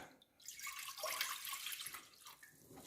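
Plain water pours steadily into a container to top up cherry juice, a soft continuous splash heard close and quiet for a few seconds.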